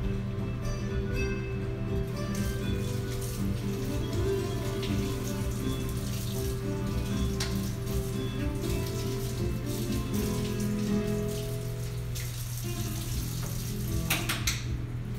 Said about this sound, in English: Let me rinse my spoon